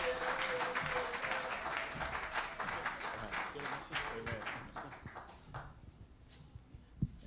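A church congregation applauds and acclaims during an Easter service, with dense clapping and voices filling the room before fading away, leaving a few scattered sounds.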